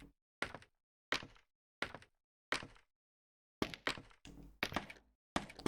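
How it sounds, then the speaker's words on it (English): Minecraft fireworks go off in a series of about eight sharp bursts, each with a short fading crackle, first spaced apart and then coming in a quicker cluster, loud against silence. "Sounds like somebody's playing with fireworks today"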